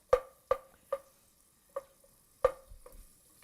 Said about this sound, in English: we just want to saute them for a little bit